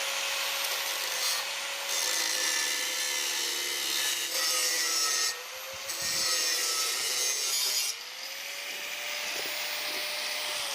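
A power tool cuts a metal part off the frame of a fire pot under repair, giving a loud, steady, close grinding whine. It breaks briefly in a few places as the cut pauses and restarts.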